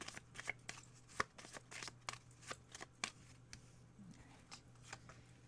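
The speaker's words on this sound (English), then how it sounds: "So I'm going to shuffle these." A deck of tarot cards is shuffled by hand, giving a run of crisp riffling bursts and taps in an uneven rhythm, close and fairly quiet, with no talking.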